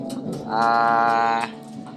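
A pigeon gives a single close, drawn-out coo of about one second, surrounded by faint rustling and background noise.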